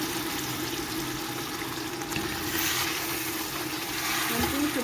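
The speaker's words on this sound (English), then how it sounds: "So I'll be adding in my blended tomato paste" Blended tomato paste made from fresh tomatoes, onions and scotch bonnets is poured into a cooking pot as a steady, thick liquid stream, continuous and close, with no talking.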